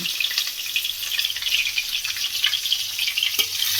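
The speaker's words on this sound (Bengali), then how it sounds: "এটা আমি হালকা লাল করে ভেজে নেব।" Steady, loud sizzling of potatoes frying in hot oil with turmeric and salt in a pan, a continuous crackling hiss with no voices.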